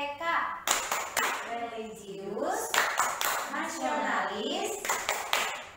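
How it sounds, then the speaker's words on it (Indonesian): Class III schoolchildren perform the rhythmic tepuk PPK clapping chant, sharp hand claps in patterned bursts mixed with kids' voices chanting along in a classroom. "sekarang ayo kita bareng-bareng tepuk PPK."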